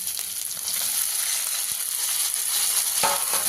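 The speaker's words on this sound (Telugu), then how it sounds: "అల్లం వెల్లుల్లి పచ్చివాసన మనకి పోయిందాక మనము ఇది ఇలా ఫ్రై చేసేసుకున్నాం" Ginger and garlic paste fry steadily in a hot pan for an egg curry, a dense, even sizzle that holds throughout with a brief stir-like bump near the end and no talking.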